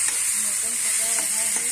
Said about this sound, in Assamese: ধুনীয়াকৈ ভাজিব লাগিব। মাংসৰ ভিতৰত মানে তেলখিনি সোমাব লাগিব